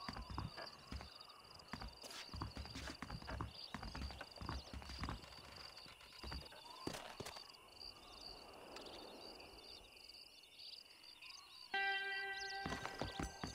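Horses walking in the video game Red Dead Redemption, steady clip-clop hoofbeats with an occasional snort over a dense background of ambient game noise and wildlife, with a bright tonal sound entering near the end.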